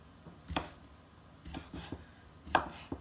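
Four andouille sausage links are sliced into bite-sized pieces, three separate knife chops landing on a cutting board with quiet pauses between them.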